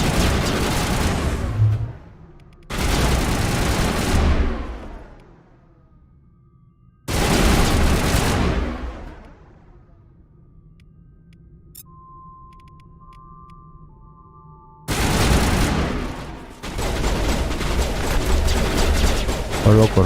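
Heavy gunfire and explosive blasts from a firefight in Mass Effect 1 Legendary Edition come in loud sustained bursts with lulls between them.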